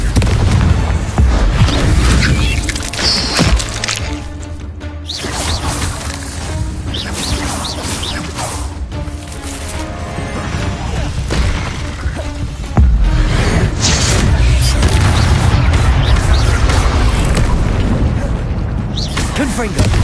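Magical blasting spell explosions from the Confringo curse in the Hogwarts Legacy video game, a dense run of loud booming bursts and crashes throughout, with music and voices mixed underneath.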